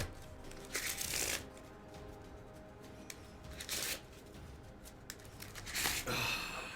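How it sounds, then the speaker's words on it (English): Playing cards being shuffled, a few bursts of riffling and bridging at close range, separated by quieter handling noise and faint background hum. "Is anybody else find shuffling cards therapeutic?"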